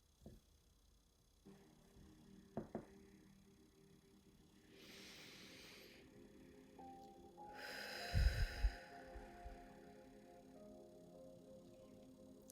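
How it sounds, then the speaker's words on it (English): A slow deep breath drawn in and then let out, faint and close, as two soft airy swells separated by quiet, with a brief low thump between them. "let's take a moment to take a nice deep breath in. Inhale all the positive energy around you, and exhale the day."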